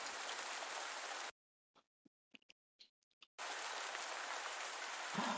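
Rain falls in the farming video game Pumpkin Days, a soft steady patter that cuts out for about two seconds of near silence with faint clicks, then resumes.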